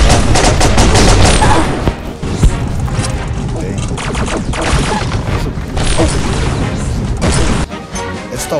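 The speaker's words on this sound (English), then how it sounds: "The laser crossbow." Laser crossbow firing in the video game Pixel Gun 3D during a siege-mode match, dense rapid zapping shots and booms mixed with constant game chaos, loud and nearly continuous with no pauses.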